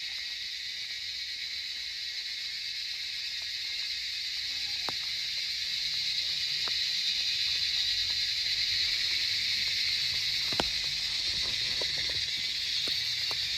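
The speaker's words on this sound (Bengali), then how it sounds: "সন্ধ্যাবেলায় এই পার্কে দেখুন ঝিঝি পোকার কত সুন্দর আওয়াজ শোনা যাচ্ছে" Insects, likely crickets, shrill steadily and continuously in a park at evening, a dense high buzzing that holds throughout with a few faint clicks and knocks beneath.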